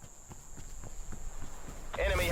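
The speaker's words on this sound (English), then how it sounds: "let's go to the Cold War footstep audio" Footsteps in the video game Call of Duty: Black Ops Cold War, a quick run of soft, evenly spaced steps over a faint hum, ending in a louder burst of noise.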